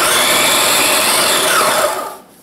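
A food processor pulsing sugar and lemon rind on low whirs loudly and steadily at close range, then winds down at the end of the burst.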